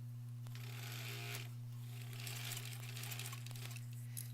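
A sewing machine stitching a quilt border seam, a rapid mechanical whirring hum with light clicking, steady and close for several seconds with brief pauses in the stitching.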